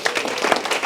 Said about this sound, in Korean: 우리 모두를 위해서 박수 한번 칩시다.